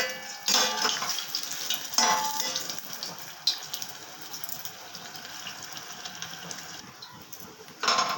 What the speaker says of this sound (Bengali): মালপোয়াটার এক পিঠ হয়ে গেছে, এবার আমি উল্টে দিচ্ছি।